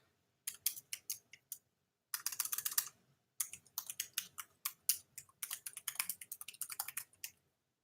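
Close, quiet typing on a computer keyboard: quick bursts of crisp key clicks separated by short pauses, with a denser flurry near the end, no voices.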